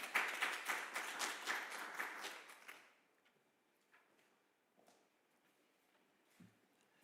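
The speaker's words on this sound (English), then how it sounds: "Please let's give her a warm round of applause as she comes up." A small crowd claps steadily for a few seconds, then the applause fades into a quiet room with scattered light taps.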